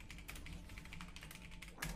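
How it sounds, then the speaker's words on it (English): Rapid clicking keystrokes on a computer keyboard, close and steady for two seconds with a slightly louder tap at the end. "I'm typing English."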